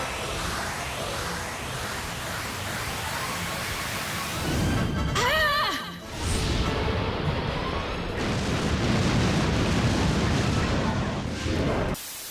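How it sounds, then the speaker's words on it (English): A massive coup de grace attack in the video game Dragon Quest Heroes 2, a long roaring blast of explosive noise with a sweeping whoosh midway, dense and loud throughout. "ending with a massive coup de grace attack"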